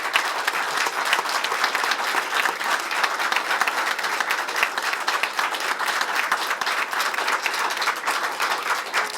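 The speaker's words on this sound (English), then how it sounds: "please join me in a warm round of applause for Attorney General Meese" An audience at an awards ceremony for a leadership award applauds warmly, a dense steady clapping that carries on without a break throughout, loud and near.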